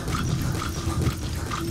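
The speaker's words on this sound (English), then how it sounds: "That wild dog pup." A wild dog pup whimpers in the video game Metal Gear Solid V: The Phantom Pain, soft repeated whines and yips close by over a steady low in-game ambient rumble.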